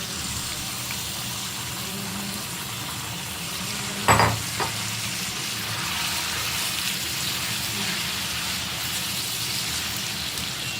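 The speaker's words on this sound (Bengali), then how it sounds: "হাই ফ্লেমে চিকেনটাকে ভালো করে রান্না করে নেব।" Marinated chicken frying on high flame in hot oil with browned onion, a steady loud sizzle with a brief clatter of stirring midway.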